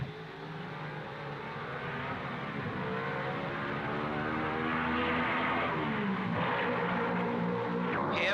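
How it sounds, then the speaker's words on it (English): Two 1955 Mercedes race cars run nose to tail through the gasworks hairpin at the Monaco Grand Prix, engines droning and shifting pitch as they slow and accelerate, moderately distant and continuous. "Here we see the two rounding the gasworks hairpin nose to tail."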